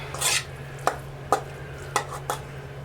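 Sausage and eggs go into a pan for breakfast burritos, with a brief sizzling burst followed by four sharp utensil scrapes and clinks against the pan over a low steady hum.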